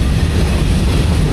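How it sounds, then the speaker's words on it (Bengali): Udayan Express passenger train pulling out of a station at a brisk pace, with a steady, loud low rumble and rolling rail noise close by and no voices. "এলএম সাহেব কিন্তু ট্রেন ছেড়ে দিয়েছে এবং বেশ জোরে সোরেই ট্রেন ছেড়ে দিচ্ছে স্টেশন থেকে"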